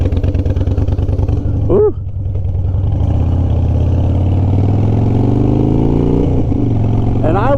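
A motorcycle engine at a bike week rally runs loud and close throughout, holding a steady throbbing drone before its pitch climbs in a rev near the end; a voice briefly exclaims early on.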